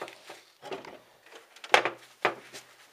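A big box being shut at a farm, with a handful of sharp wooden thumps and scrapes spread unevenly over a few seconds, close and moderately loud, with no talk.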